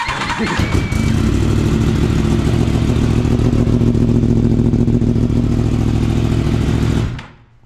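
A Yamaha sport-bike engine on a three-wheeler build runs loud and close in a sustained, steady roar that holds for several seconds before cutting off abruptly near the end.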